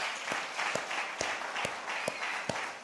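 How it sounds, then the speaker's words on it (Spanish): A church congregation claps in a steady rhythm of distinct, evenly spaced beats over a soft background of scattered applause, heard fairly faintly. "Dele un aplauso a Dios, por favor"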